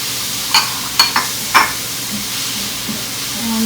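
Onion and green chili frying in a pan, a soft steady sizzle broken by a few sharp stirring clicks near the start.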